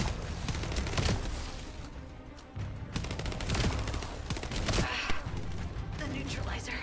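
Rapid gunfire from the Destiny 2 video game bursts in dense, loud volleys throughout, with brief pauses and heavy impacts, and a voice occasionally heard beneath the shooting.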